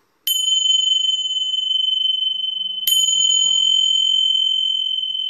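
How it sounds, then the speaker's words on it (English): Two strikes of small hand bells, each a bright sustained ring that lingers and fades slowly, the second struck about two and a half seconds after the first. "A little chant again on my little bells."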